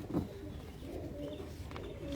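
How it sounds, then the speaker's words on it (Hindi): Teddy pigeons at a home loft in Multan give a soft, low coo, one brief call near the start over a quiet background with no talk. "ले जी ये घर के टैडी कबूतर हैं"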